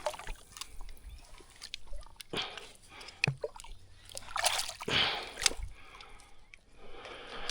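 An undersized pike is unhooked and let go back into the water from a kayak, with several wet splashes, drips and squishy handling noises spread irregularly across the moment.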